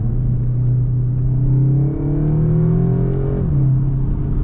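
A SEAT Leon Cupra ABT engine drones steadily close by through its active sound system, then revs up with a rising pitch before settling back down; no voices.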